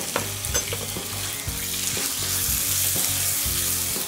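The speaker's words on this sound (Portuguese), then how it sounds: "Vou começar a receita primeiro fritando o frango." Unseasoned chicken pieces for a stroganoff sizzle steadily in a hot pan with bright, crackling frying noise. A spatula stirs them in a regular scraping rhythm, and no one speaks.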